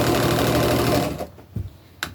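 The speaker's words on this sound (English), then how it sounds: "You're rattling, little sewing machine." Small home sewing machine stitching a band onto an upcycled tunic, a loud steady rattling whir that stops after about a second, followed by a few clicks and knocks.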